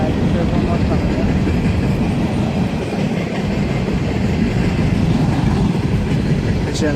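An empty Norfolk Southern coal train led by an SD70ACE locomotive rolls past in Cresson, Pennsylvania, a loud, continuous rumble of wagons with rhythmic clickety-clack from the wheels over the rails.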